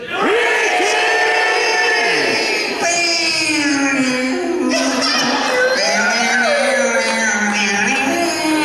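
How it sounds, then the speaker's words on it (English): A crowd at a Corpus Christi comic convention screaming together on cue, a loud sustained chorus of many voices with rising and falling wails and shouts lasting the whole stretch. "I want us to scream."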